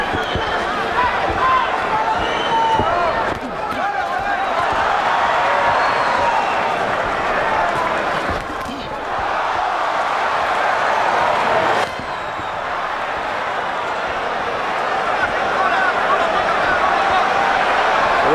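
A boxing arena crowd during Trinidad vs Cherifi, a loud continuous roar of many voices that swells and holds, with a commentator speaking over it.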